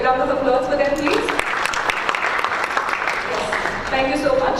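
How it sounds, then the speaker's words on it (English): An audience at a conference applauds in a dense, steady patter of clapping that fills the room, with a voice speaking over it at the start and again near the end. "May we have a round of applause for them, please?"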